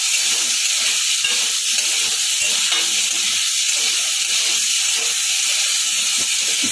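Potatoes fry in a little oil and are stirred gently, giving a steady close hiss and sizzle with faint scraping underneath.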